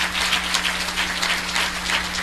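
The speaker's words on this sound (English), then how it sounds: "Please, can you give a clap offering unto them?" A church congregation gives dense, continuous applause as a clap offering for visiting pastors. The clapping is loud and even, like a steady patter of rain, and there are no voices.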